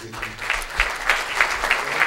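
Applause from an audience at a tribute event honoring seniors, a crowd clapping with loose rhythmic surges, moderately loud and close, with no talking over it.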